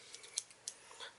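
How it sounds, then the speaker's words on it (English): Sharp scissors snip a few times at a craft table while a fashion doll is being restyled, two crisp cuts standing out over quiet room tone with faint handling noises. "using a pair like these scissors or any other type of scissors"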